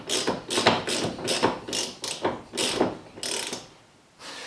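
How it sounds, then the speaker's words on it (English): Socket wrench on the master cylinder of a Rambler American, its pawl clicking in quick loud bursts of ratcheting, close up with brief pauses between strokes and no speech. "Just with the sockets and socket wrench"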